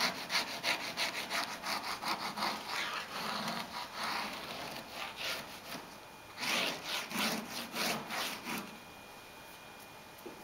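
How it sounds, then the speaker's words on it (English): A chisel scrapes excess material off the ends in rhythmic back-and-forth strokes, close and fairly quiet, with a rasping, sawing texture that repeats steadily throughout. "You're going to start scraping off the excess on the ends."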